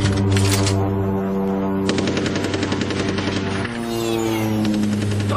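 Rapid bursts of machine-gun fire rattle continuously over a droning aircraft engine, loud and close, with a brief shift in pitch near the end.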